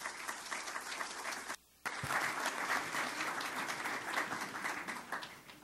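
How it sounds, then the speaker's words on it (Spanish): Audience applause for a speaker at a university literary event in Lima, steady dense clapping with a brief dropout near the middle before it resumes loud and continuous. "Un aplauso para él"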